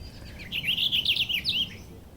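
A purple finch sings a bright, warbling run of twittering notes, close and clear over a low background hum, with no voices.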